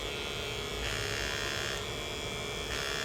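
A VGR V095 hair clipper runs steadily with its blade fully open, giving a close, continuous bright buzz with slight pulsing shifts in pitch roughly every second, no talk over it.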